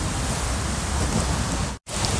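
Rain falls steadily while mushrooms are picked outdoors, making a dense, loud, continuous hiss. It breaks off for a split second near the end, then resumes, with no voices.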